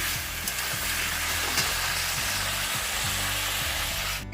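Chicken fries in a pan with onion and green chili for a poppy-seed-paste chicken dish, producing a loud, continuous close-up sizzle with occasional stirring.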